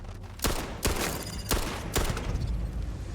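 Pistol gunfire in the space game Starfield: Shattered Space, four sharp, loud shots spaced about half a second apart with a reverberant tail between them, no talking.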